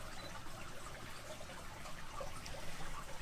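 Water runs through a historic mill's water wheel with a soft, steady trickling and splashing, fairly quiet and continuous, with no voices.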